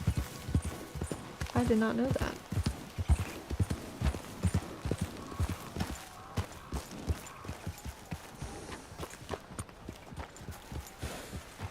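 Hooves of a draft horse clip-clop steadily in Red Dead Redemption 2, a close, regular rhythm on the ground, with a brief whinny early on and someone talking over the hoofbeats.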